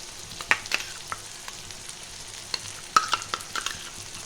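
Ginger garlic paste sizzles softly in a pan while cooking for khichuri, a quiet crackle broken by scattered sharp pops and spoon clicks.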